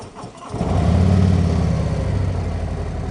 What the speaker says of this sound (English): Let's start the motorcycle and then we're going to turn it off quickly.